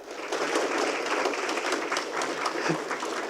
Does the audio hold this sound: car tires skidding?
no